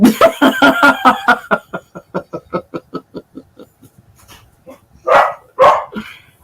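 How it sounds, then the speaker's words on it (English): A pet dog indoors, with a fast string of rhythmic, fading yaps or huffs followed by two loud, close barks after a brief pause. "Oh, my dog's gonna bark because they're back."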